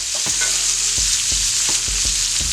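Onions and garlic fry in a pot with a steady, close sizzle, while a spoon stirs and scrapes in several distinct strokes roughly every half second.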